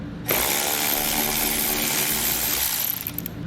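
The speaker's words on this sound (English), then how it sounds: "There are going to be several bolts we'll have to remove with a 10mm socket in order to get this pan down." Power tool with a 10mm socket spinning out belly pan bolts under a 2017 Tesla Model during a trailer hitch install; one continuous loud whirring run of about three seconds starts abruptly and stops, close by, no talk.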